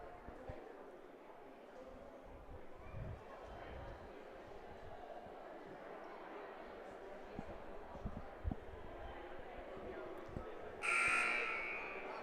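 A loud electronic buzzer blares for about a second near the end at a varsity high school basketball game, La Salette Lions vs Donovan Wildcats, over steady crowd murmur and footfalls in the gym.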